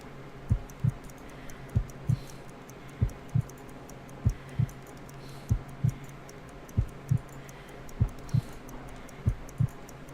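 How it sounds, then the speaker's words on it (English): A slow, muffled heartbeat thumps in paired beats at a steady, unhurried pace during a pulse check in a Sherlock Holmes video game, repeating about a dozen times over a faint background hiss. "I need to concentrate and count the heartbeats."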